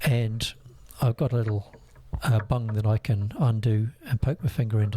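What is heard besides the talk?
No distinct noise like a dog, phone or traffic.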